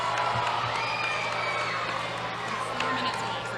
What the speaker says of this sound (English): Give him a round of applause, ladies and gents.